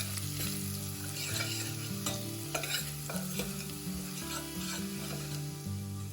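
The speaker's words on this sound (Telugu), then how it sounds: "కొద్దిగా ఈ పొడిని వేగనివ్వాలి." Freshly pounded rasam spice powder fries in a pan for pepper rasam, a dense steady sizzle with occasional scraping stirs, close and quiet, no voices.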